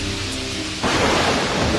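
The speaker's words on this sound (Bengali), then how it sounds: "বাইরে গুঁড়ি গুঁড়ি বৃষ্টি পড়ছে" Rain and thunder outside in a cartoon: steady rainfall hisses, then a loud rumbling thunderclap breaks in partway through and rolls on over the rain, with no voices.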